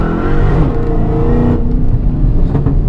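A Dodge Challenger Hellcat with a rear differential brace accelerating hard at full throttle, its loud engine roar rising in pitch through the pull, close and dominant, with a brief shift-like break midway.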